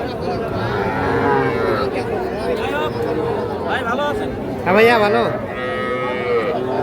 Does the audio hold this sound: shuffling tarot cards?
no